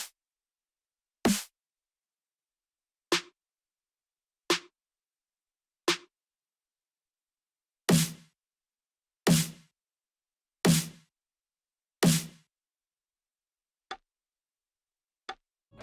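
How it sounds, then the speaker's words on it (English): Layered snare hits programmed in FL Studio, sharp isolated cracks in a sparse pattern, first singles spaced apart, then a cluster of four fuller hits, then a few quieter ticks, with no other sound between them. "There are 4 layers of snare here."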